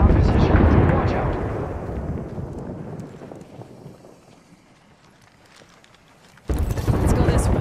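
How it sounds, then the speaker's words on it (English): Airstrike explosions in the video game Apex Legends rumble loud and close, a heavy booming roar that fades over several seconds, then another sudden blast bursts in near the end. "there is an airstrike on our position"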